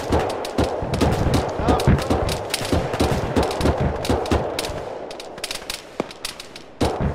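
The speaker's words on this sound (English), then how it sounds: "careful, we're getting shot at from the east as well." Dense, rapid gunfire crackles through an ArmA squad battle, with many sharp overlapping shots, bursts and distant reports forming a continuous firefight, while voices talk now and then underneath.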